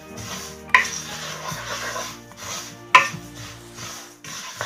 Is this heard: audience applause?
no